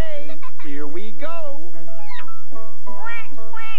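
A cartoon cat meows in a children's animal show, a few bright, wavering calls spread across the clip and mixed with other voiced animal-like sounds.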